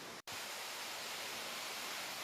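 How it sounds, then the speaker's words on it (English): Rushing water of the Fenella waterfall in a wooded glen near St Cyrus forms a steady, dense roar that fills the scene, close and unbroken after a brief gap at the start. "I'll just show you what that rushing water is you can hear behind me"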